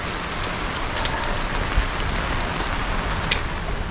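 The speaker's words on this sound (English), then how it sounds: "So it's raining and we are returning back." Steady rain falls on a mountain trail near Sidrabong in Darjeeling, a dense even hiss with a few sharper drop taps, close and continuous with no talking.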